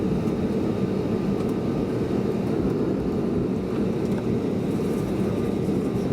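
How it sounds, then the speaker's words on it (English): Inside the cabin of a Gulf Air plane departing Bahrain International Airport, a steady loud engine roar and rumble fills the space throughout, with no voices heard. "I'm on a Gulf Air flight to take off from here."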